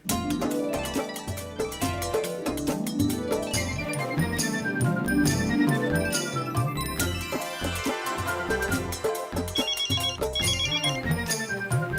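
A telephone ringtone plays as a call is placed early in the morning, a steady melodic ring repeating loudly for several seconds with no talk over it.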